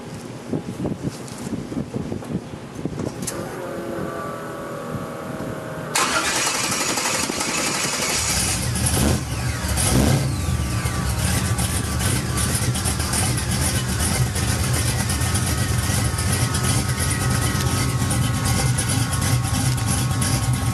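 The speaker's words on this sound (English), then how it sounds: "let me fire this up and let you guys hear it" A 1970 Chevrolet Nova V8 with Super Comp headers starts up, then settles into a loud, steady, rumbling idle that continues close to the microphone, with some wind noise.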